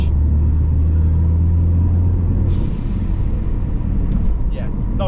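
A Ford Focus ST mk3 fast hatchback drives along a rural B road, its engine a steady, loud, low rumble heard from inside the cabin, with faint clicks and rattles near the end.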